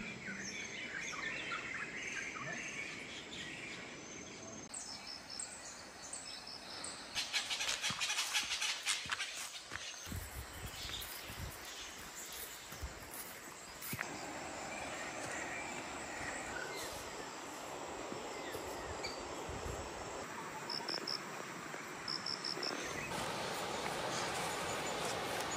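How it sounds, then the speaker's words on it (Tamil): Birds chirp and call over the steady rush of a flowing river in the forest at Gavi, with insects buzzing in a constant outdoor hum and no voices. "பறவைகளோட கீச்சு சத்தமும் ஆறு ஓடுற சத்தமும் பூச்சியோட ரிங்கார சத்தமும் எங்கள் காதுகளுக்கு அவ்வளோ இனிமையாக இருந்தது"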